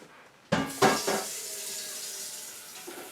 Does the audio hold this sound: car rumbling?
no